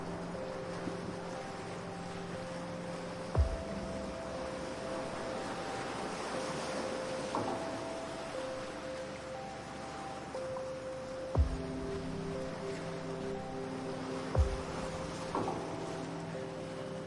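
Gentle ocean waves wash in a slow, soft ambience, with a few brief louder swells breaking through. Steady tones run beneath the water sound.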